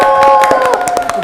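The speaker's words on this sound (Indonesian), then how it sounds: "Tepuk tangannya dong" A live talk show audience claps and cheers loudly for the guests. Quick, close claps rise above a crowd roar, with a faint musical tone underneath.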